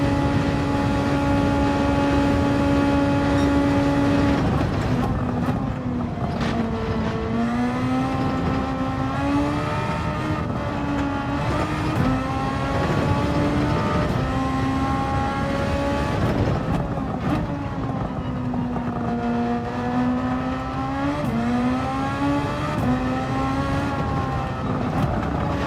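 Race car engine in Gran Turismo 7 screams loud and steady through the whole stretch, pitch dropping and climbing repeatedly as the driver lifts and accelerates through corners and upshifts.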